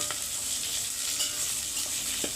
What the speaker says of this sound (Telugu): బాగా ఎర్రగా వేగాలండి మనకి ఉల్లిగడ్డలైతే ఎర్రగా వేగిన తర్వాతనే మనం అల్లం పేస్ట్ వేయాలి